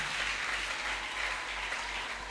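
Congregation in a church applauding loudly for the Lord, a steady dense wash of clapping that holds at the same level throughout, with no voices over it.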